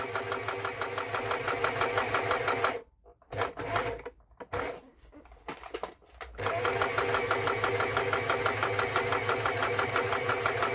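The motor of a 40-year-old Jaguar sewing machine under repair hums steadily at close range, drops out for a few seconds with scattered handling noises, then whirs back up.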